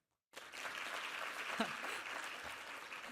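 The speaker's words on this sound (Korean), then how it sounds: "괜히 박수를 두 번 치게 해드렸네요." Church youth group audience begins clapping after a short silence, a sudden burst of many hands that settles into steady, fairly faint applause with a voice briefly underneath.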